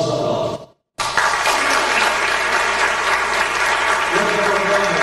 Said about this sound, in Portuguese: o nosso aplauso.